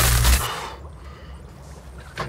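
A spider bomb in the Hearthstone video game goes off with a loud, booming blast that decays into a rumbling tail, followed by a smaller thud.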